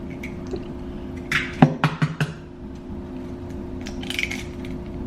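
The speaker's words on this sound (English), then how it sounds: "We're going to be cracking 2 eggs, placing it on this bowl." Two eggs cracked one after another into a bowl give a few close, sharp taps and wet clicks in a short cluster, over quiet kitchen room tone with a low steady hum.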